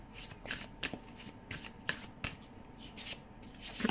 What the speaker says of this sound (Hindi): कुछ कार्ड्स मैं और निकालूंगी